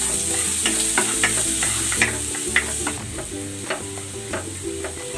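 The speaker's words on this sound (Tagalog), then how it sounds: "Magigisa na ako ng bawang." Garlic sautés in a hot pan with pork just removed, a steady loud sizzle running throughout, broken by repeated scraping stirs and the clack of a spatula against the pan, with no talking.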